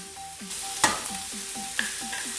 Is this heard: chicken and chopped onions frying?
yes